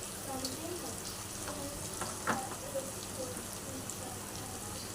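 Onion, tomato and homemade masala sauté in a pan with a soft, steady sizzle and occasional stirring scrapes, fairly quiet and close, with a voice faintly present.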